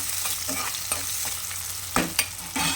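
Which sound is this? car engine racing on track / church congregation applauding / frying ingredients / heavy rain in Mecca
frying ingredients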